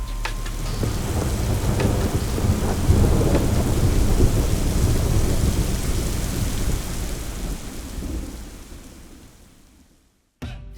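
Heavy tropical rain pouring down in Kuala Lumpur with low rolling thunder, loud and dense at first, then easing and fading toward the end before a brief final burst.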